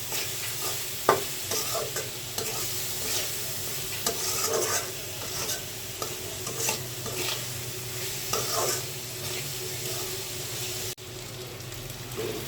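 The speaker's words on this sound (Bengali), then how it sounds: "ডালগুলো দিয়ে দিচ্ছি ডালটা একটু ভালোভাবে কষিয়ে নিই" Lentils sizzle in a hot pan with salt while a spatula stirs and scrapes them, close, steady frying hiss broken by repeated scraping strokes.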